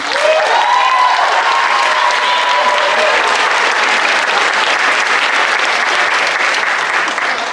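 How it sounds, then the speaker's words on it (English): Loud, sustained applause from a large crowd at a school event for the band, steady clapping filling the whole stretch with a few brief cheers near the start. "can we give a huge round of applause for our amazing band?"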